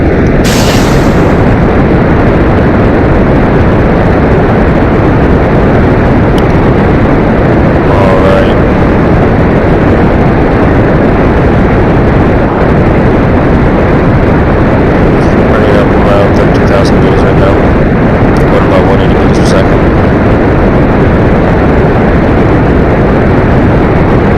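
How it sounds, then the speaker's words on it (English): Rocket main thrusters firing in Kerbal Space Program, a loud continuous roaring rumble that holds for over twenty seconds with little variation, faint higher crackles scattered through it. "Main thrusters online in 3, 2, 1."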